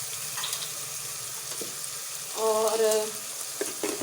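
Beef mince with salt fries in a pan, giving a soft steady sizzle with a brief metallic scrape or clink midway; a voice speaks briefly.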